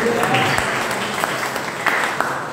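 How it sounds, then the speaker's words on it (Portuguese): Church congregation at a women's group worship service claps for the Lord, a steady, dense wash of applause filling the room throughout. "Vamos aplaudir ao Senhor com alegria."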